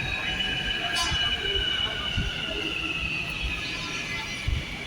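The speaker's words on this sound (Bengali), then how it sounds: "এখন অল্প সময় পরে ট্রেন চলে আসবে" A metro train rolls into the station with a steady, loud rumble of wheels and a continuous high whine, with brief squeals and clanks throughout.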